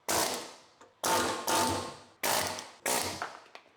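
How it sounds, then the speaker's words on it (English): An air hammer works on E30 car parts in four loud, close bursts, each a sharp onset of rattling impacts that quickly fades out, with brief gaps between them. "I've tried this air hammer on 2 things so far"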